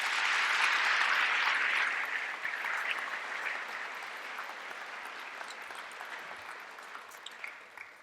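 Audience applause at a Veterans Day ceremony, loudest at first and then thinning to scattered claps that taper off over several seconds.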